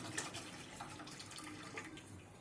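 1.5 litres of milk poured into a kadai for making khoa: a steady, continuous liquid stream splashing softly into the pan, close and unbroken with no voices.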